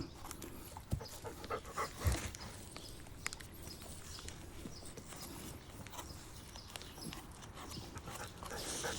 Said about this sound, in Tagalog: Itong aso nila napaka-sweet.